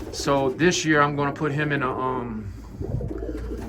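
Racing pigeons coo softly in a loft, the low throaty calls partly under someone talking.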